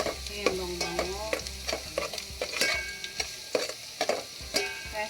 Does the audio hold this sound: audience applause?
no